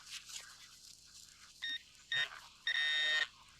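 A handheld metal detector sounds a few short electronic tones over a buried target near an 1890s mansion, with brief beeps followed by a longer sustained tone, close and clear.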